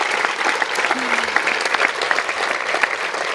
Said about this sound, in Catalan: un fort aplaudiment per totes les persones mobilitzades arreu del país